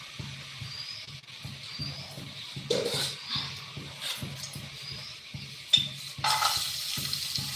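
Chopped onion fries in a pan for a Marathi-style prawn curry, a soft steady sizzle broken by rhythmic stirring scrapes and a few clinks of the utensil against the pan.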